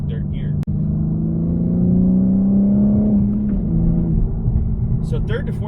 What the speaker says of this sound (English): that hesitation there was not me. That was just the car going from second to third gear.